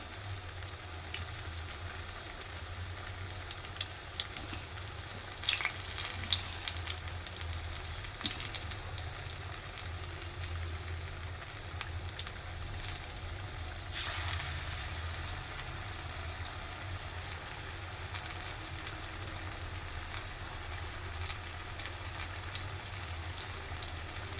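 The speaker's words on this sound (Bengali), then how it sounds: "এইভাবে আমি সবগুলো ভেজে নেব" Egg chops frying in hot oil, a steady soft sizzle with faint crackles and pops running throughout, no voices.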